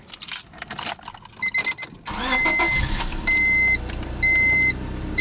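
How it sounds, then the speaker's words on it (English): A 1996 Honda Civic sedan with an automatic transmission is started: keys jangle, then the engine turns over and catches into a steady idle, with short chimes sounding over the engine. "I guess you guys probably want to hear how the car starts."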